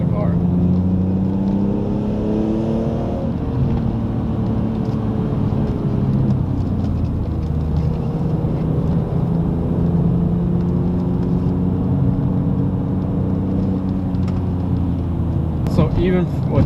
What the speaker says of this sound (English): So even with acceleration off the line in first gear with this car with 310 wheel horsepower, most of the time tires will spin